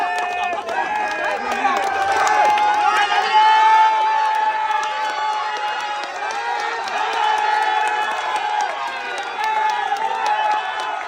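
A crowd cheers and applauds loudly at a knockout contest heading into the quarter-finals, a dense, sustained roar of voices and clapping with a voice over it.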